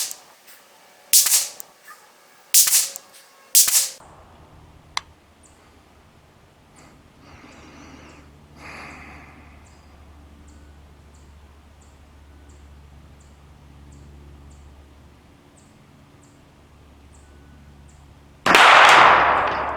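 A Taran Tactical TR-9 pistol-caliber carbine is fired at a 200-yard target outdoors: three sharp, loud shots in quick succession, then a long quiet stretch and a sudden burst of noise at the end.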